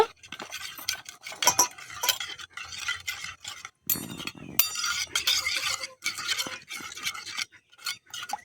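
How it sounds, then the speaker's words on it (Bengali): A metal spoon stirring spice paste, ground Kashmiri chili and other spices, with a little water in a small bowl, making rapid repeated scrapes and clinks against the sides in uneven bursts with short pauses, close and unaccompanied by talk. "এবারে চামচ দিয়ে ভালো করে ঘুলিয়ে নেব।"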